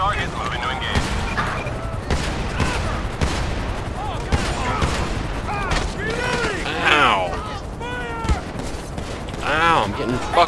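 Rapid bursts of gunfire crack through a chaotic shoot-out in the video game GTA 5, dense and repeated, with shouting voices mixed in among the shots.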